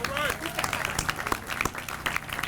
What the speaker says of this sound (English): Let's give the mayor a round of applause again.